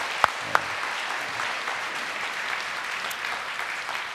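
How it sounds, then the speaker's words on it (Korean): A church congregation applauds in welcome during a Sunday service, a sustained, even wash of clapping with a couple of sharp louder claps near the start. "우리 큰 박수로 한번 우리 환영합니다"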